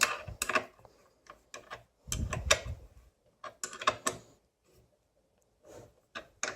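A fastener being tightened on a gasoline generator's carburetor during a cleanup, heard as scattered close mechanical clicks and ratcheting bursts separated by short quiet gaps.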